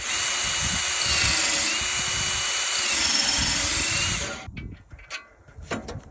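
A sharpener grinds a tooth on a bandsaw sawmill blade, a loud steady high-pitched whine for about four seconds that cuts off, followed by a few faint clicks and taps as the blade is rotated to the next tooth.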